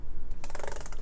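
Keys on a MacBook Air keyboard tapped in a quick run of close, crisp clicks, tested one after another.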